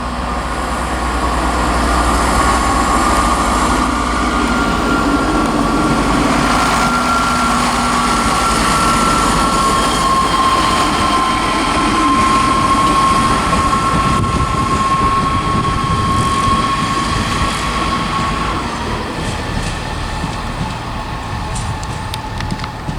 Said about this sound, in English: Departing as well is the 1458 East Midlands train service to Liverpool Lime Street, 158846.